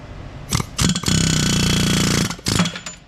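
Pneumatic air chisel hammering on a 1986 Chevy K30 off-road truck, a loud sustained rattling burst of about a second and a half, bracketed by shorter bursts before and after.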